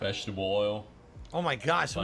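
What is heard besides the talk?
No everyday noises stand out.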